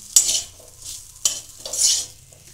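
A spoon stirs green pea kachori filling, seasoned with chaat masala and amchur powder, in a pan: two sharp scraping strokes, each followed by a soft hissing sweep, close and unaccompanied.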